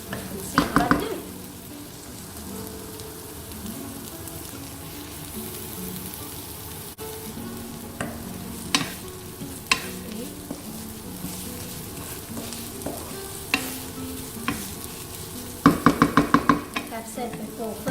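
Massaman curry paste fries in oil with a soft, steady sizzle, while a utensil stirs and taps against the pan in scattered clicks and a brief clatter burst near the end.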